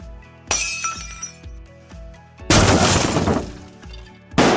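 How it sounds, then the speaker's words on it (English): A stock breaking-glass sound effect from Movavi Video Suite plays as a series of sharp shattering crashes with tinkling shards, loud and close, with a big smash near the middle and another burst at the end. "so breaking glass"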